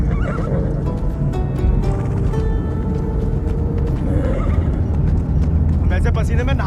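A horse whinnies in a film scene over a loud, dense bed of hoof clatter and rumbling background noise, with a sharper burst of neighing near the end.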